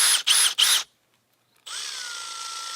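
A new cordless drill without hammer action whirs loudly in three quick bursts, falls silent for a moment, then runs steadily at a constant speed.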